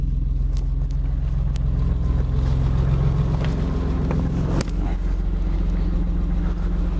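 Car engine idling after a jump start with a JFEGWO F60 booster, a steady low rumble close by with a few faint clicks and knocks, no speech.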